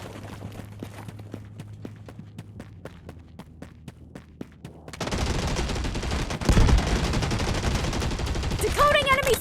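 Gunfire in the mobile shooter Delta Force Mobile: a run of evenly spaced single shots, then dense, loud automatic bursts and explosions over continuous battle noise, with a brief synthetic tone near the end.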